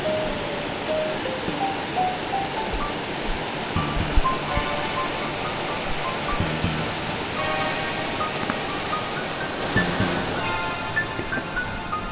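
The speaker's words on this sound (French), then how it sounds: "je vois la rivière qui coule en une jolie cascade" Small waterfall on a river along a rural walking trail, a continuous close rush of tumbling water with steady broadband splashing throughout, faint scattered tones and knocks underneath.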